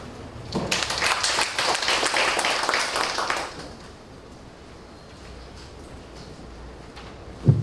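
Applause from the audience at a Korean food and drug safety open forum, a burst of many hands clapping for about three seconds before fading into quiet room tone, with a small knock at the end.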